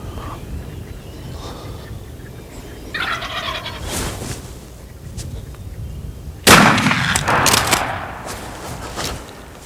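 Wild turkeys gobble in a few rattling bursts, the loudest one late in the clip, heard alone in outdoor quiet.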